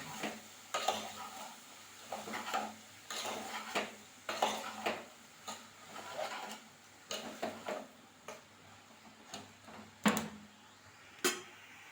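A spoon stirs ridge gourd curry in a pan, making repeated close scrapes and light metallic knocks in an uneven rhythm over a faint sizzle, with no voices.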